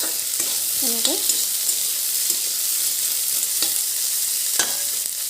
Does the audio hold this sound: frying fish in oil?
yes